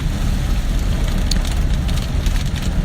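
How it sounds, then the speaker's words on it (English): Steady, dense patter of rain drumming on a moving car's windshield and wheel wells, with a low rumbling road noise underneath and no voices. "you can probably hear both the rain hitting my windshield and hitting my wheel wells"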